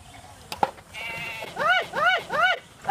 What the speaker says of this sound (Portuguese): a ovelha